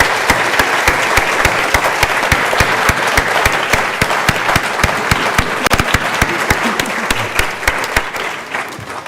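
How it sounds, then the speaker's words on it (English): An audience at a porpoise dissection event gives sustained, fairly close applause with crisp, steady clapping that lasts the whole time and carries no speech over it. "But if we bring Matt and Rob up once more, we can give them a big round of applause, and also Paul as well."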